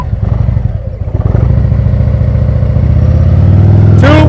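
A heavy motorcycle engine chugs loudly and close during slow-speed practice riding in Illinois, rumbling unevenly at low revs before settling into a steady, stronger drone with a brief higher whine near the end.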